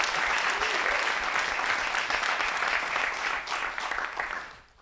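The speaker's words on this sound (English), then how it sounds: "Round of applause for these guys," An audience at a Bitcoin finance panel event claps for the panelists, a steady wash of applause from a seated room that holds evenly before thinning out and fading away at the end.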